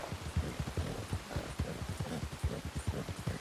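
Horse hooves clip-clopping in the Red Dead Redemption 2 video game, a steady, moderately close rhythmic trot of distinct hoof strikes heard alone throughout.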